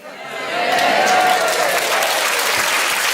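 Studio audience breaking into applause at a panel comedy show, swelling quickly from a scattering of claps into a dense, sustained wash of clapping and cheering that holds steady.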